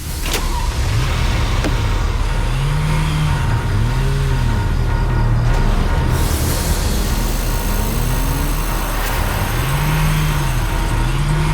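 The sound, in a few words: car arriving and being parked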